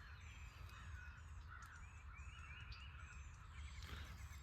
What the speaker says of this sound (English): Y'all hear all them crows over there?